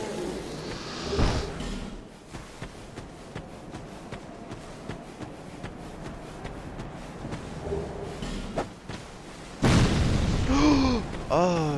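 A bomb explodes in Dark Souls 2. An early boom is followed later by a loud, sustained blast that roars over busy combat noise, with a voice talking at points.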